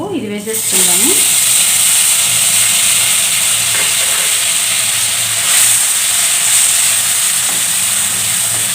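Grated raw mango tipped into hot tempering oil with fried green chillies in a pan for mango pulihora, giving a steady loud sizzle and hiss that runs throughout, with someone speaking briefly at the start.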